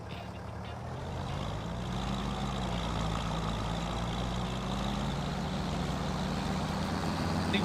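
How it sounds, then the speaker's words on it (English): A tractor fitted with MB tracks drones in Farming Simulator 25, with a steady, loud, low engine hum that swells slightly at first, then holds evenly with no speech. "I love the sound of these MB tracks."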